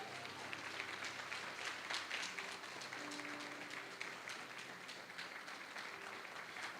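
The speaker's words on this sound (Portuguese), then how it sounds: "aplauda Jesus bem forte" A church congregation applauds during a sermon, producing a continuous wash of many hands clapping that sounds soft and distant, steady throughout with no talking over it.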